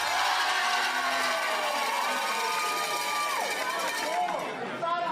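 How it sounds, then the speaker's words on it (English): Loud, continuous crowd chatter and shouting from spectators at a close pickleball match, with excited cheering swells and voices rising over the steady din throughout. "Listen to the crowd."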